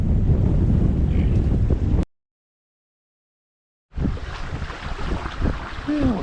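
Strong wind buffeting a microphone aboard a sailboat under way, a loud low roar with water rushing around the hull, broken by a two-second gap of silence before the gusty rumble resumes.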